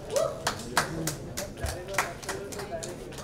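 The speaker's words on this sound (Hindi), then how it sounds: "आप सभी की जोरदार तालियों के साथ" Sparse, fairly faint clapping from an audience on a Hindi singing talent show, individual claps landing in a loose, uneven rhythm.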